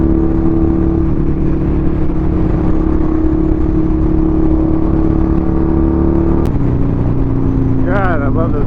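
A motorcycle rides through heavy traffic in bright sun, its loud steady engine drone and wind filling the whole stretch, with a brief whine of another vehicle rising near the end.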